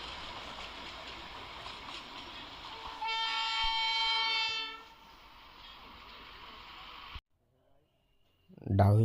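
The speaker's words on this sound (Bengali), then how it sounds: "এই টয় ট্রেনটাই আমাদের ভিডিওটাকে সুন্দর বানিয়ে দিল বেশি।" The Darjeeling toy train passes on its hill railway, a steady rumble of the carriages broken by a long, loud, harmonic horn blast midway, then the noise fades before a brief clatter at the end.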